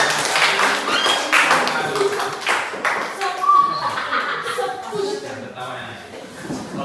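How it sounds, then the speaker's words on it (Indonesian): A classroom group claps for group 2 after their presentation, a steady patter of hands from several students under light chatter and laughter. "Mari kita beri aplaus untuk kelompok 2"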